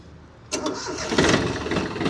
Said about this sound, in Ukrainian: Заводиться трактор з півтичка